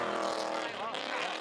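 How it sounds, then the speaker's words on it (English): V8-powered drift car at a D1SL professional drifting round at Maze, its engine growling loud and close in a continuous roar, with commentary voices talking over it. "Tadashi Horiguchi arrives on the throaty growl of his ride's V8 engine."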